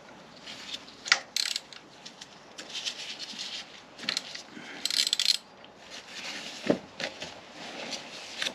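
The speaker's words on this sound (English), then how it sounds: "So the next job now is to get this 12mm sump plug out" Ratchet working on a 12mm sump plug of a 2022 Honda CB650R during an oil change, faint scattered metallic clicks and short bursts of ratcheting with soft tool clinks in between.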